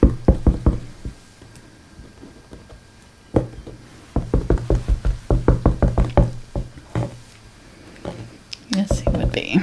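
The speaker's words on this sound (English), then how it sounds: "Sounds like you're knocking." Knocking taps from a brush or hand against a table during a live acrylic painting session of a Christmas cookie mug, coming in quick irregular bursts, with people talking over them.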